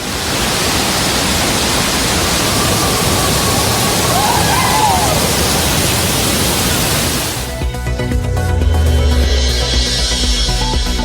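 Thiruparappu waterfall on the Kothai river, swollen with increased water flow, roars as a loud, steady broadband rush for about seven seconds before the sound cuts away to something else.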